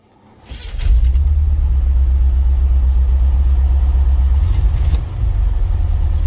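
An International truck engine cranks and catches after a cold start in snow, then settles into a loud, steady low rumbling idle close by.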